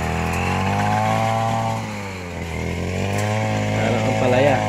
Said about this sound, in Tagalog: Mag-grass cutter nga po, ayan.